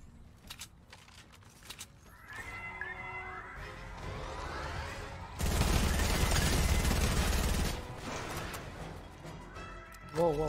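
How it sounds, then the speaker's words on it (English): Rapid bursts of automatic gunfire from a drum gun and a P90 trading shots in Fortnite, loud and dense with a heavy sustained volley midway, over game sound effects and a talking player. "Drum gun versus P90."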